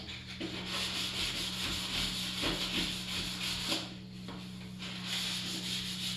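Sandpaper lightly rubbing back and forth along a panel line on a hard surface in short, steady strokes, close and quiet, over a faint constant hum.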